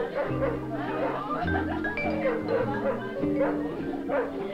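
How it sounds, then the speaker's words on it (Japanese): A dog barks repeatedly in short yapping bursts, layered over a music background. "犬がすごく吠えてるわよ"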